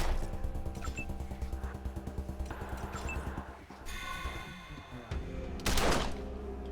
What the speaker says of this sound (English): Alright, just gun him down, please.